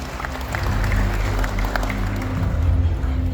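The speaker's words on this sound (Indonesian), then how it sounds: "Boleh kita berikan tepuk tangan bersama." An audience applauds at a Banten provincial investment commitment event. The clapping is moderate and continuous, heard at some distance over a low hall hum, with a murmuring crowd beneath it.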